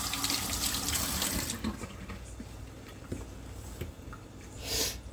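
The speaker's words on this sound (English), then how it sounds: "Wash my hands." A kitchen tap runs loudly while hands are washed under the stream, a close, rushing splash that eases to a lighter trickle with a few small knocks, then swells briefly again at the end.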